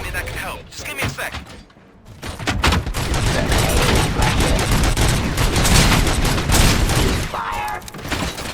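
Heavy gunfire from the video game RoboCop: Rogue City, loud sustained bursts of shots and thuds rattling almost continuously after a brief lull, with muffled background voices.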